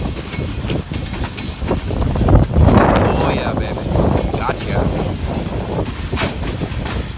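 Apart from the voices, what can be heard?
freight train passing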